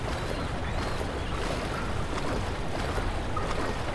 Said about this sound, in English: oh wait, no, it's that water wheel